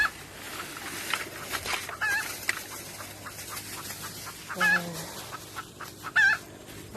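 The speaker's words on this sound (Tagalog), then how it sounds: "pakaingay naman ng manok na ari eh" Chickens cluck and squawk intermittently amid a busy outdoor background, with a brief spoken word; a few louder cackles stand out near the end.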